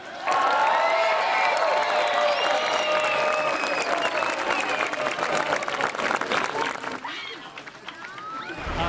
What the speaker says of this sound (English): One more amazing round of applause for these amazing girls.